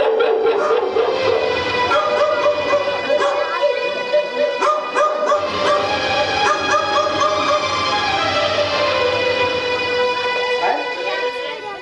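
Several dogs bark, yip and whimper continuously at close range, a busy overlapping chorus of yelps that fills the whole stretch.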